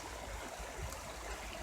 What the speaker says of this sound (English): when you're down here, and you're hearing the river running